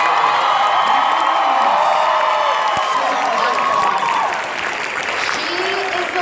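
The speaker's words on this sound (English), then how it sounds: "Can you give her your loudest round of applause?" An audience at a Sailor Moon R movie premiere Q&A bursts into loud, sustained applause with cheering and whoops, clapping steadily for about six seconds before easing slightly.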